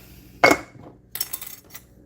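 A reused morning spoon clinks against a coffee mug: one sharp ring followed by a few lighter scraping taps, close and isolated in a quiet room.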